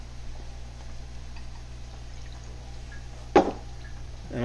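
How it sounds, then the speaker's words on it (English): A quarter cup of water is poured into a tablespoon of cornstarch in a bowl. A single short splash stands out about three quarters of the way through, over a quiet steady hum of kitchen noise. "I'm gonna add 1/4 cup of water to that."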